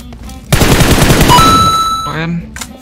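A sudden burst of rapid automatic gunfire in PUBG Mobile starts loud and close, rattling for about a second and a half before trailing off into fainter game effects.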